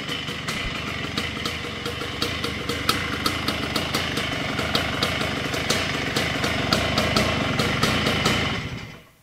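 A Honda CR250 motorcycle engine idles steadily nearby with a rapid, even putter and regular ticking, then cuts off abruptly at the end.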